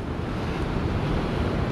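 Churning rough sea at Whitley Bay, a brief burst of constant surf roar close by with wind noise layered over the crashing water.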